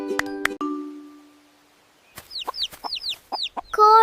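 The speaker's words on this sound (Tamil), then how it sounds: "கோழி." A chicken gives a rapid series of sharp, rising clucks and squawks, loud and close, after a brief bell-like chime and a quiet pause.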